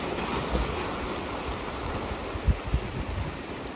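Ocean surf rolls onto the Portuguese coast in a steady broadband wash, with wind buffeting the microphone and a couple of brief low thumps; no one speaks.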